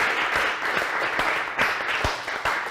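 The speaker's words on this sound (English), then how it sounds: "Give yourselves one last round of applause." A small group gives one last round of applause after a session, with fairly quiet, scattered clapping and a few sharper individual claps standing out over a couple of seconds.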